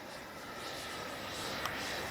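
A HobbyKing Viper 64 RC jet takes off, its steady broadband turbine-like roar rising slightly and holding loud and continuous throughout, with a brief click near the end.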